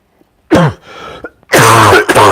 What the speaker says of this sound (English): I'll try to stop coughing